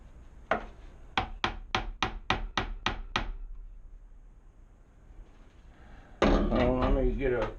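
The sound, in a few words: beating on sewing box part to push it in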